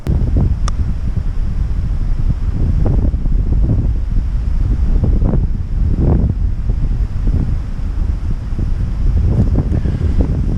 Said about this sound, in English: Not sure if you can hear me, but it's really windy outside.